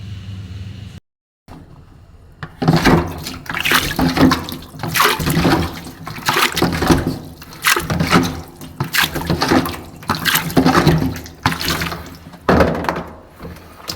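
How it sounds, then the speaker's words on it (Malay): Water drains steadily out of a leaking poly plastic water tank, a loud continuous gushing and splashing after a brief silent gap at the start, with surging pulses throughout and no voices. "Sekarang ni proses untuk keringkan air dalam tangki ni."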